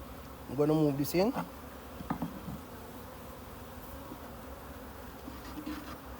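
Honeybees buzzing in an open hive during an inspection, close to the listener: a loud, brief burst of buzzing near the start, then a steady, softer hum that carries on for the rest, with no speech.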